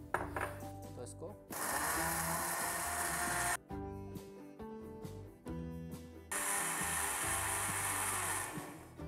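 Electric blender whirring loudly as it blends mint lemonade with sugar and about a cup of water, running in two long bursts separated by a brief pause, with music playing underneath.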